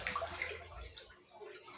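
Water sloshes and splashes in an indoor bathtub used for a home swim, with a soft continuous wash of moving water heard close but fairly quiet for about two seconds.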